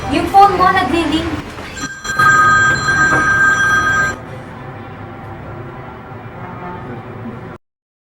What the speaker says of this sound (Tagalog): yung phone mo nagre-ring.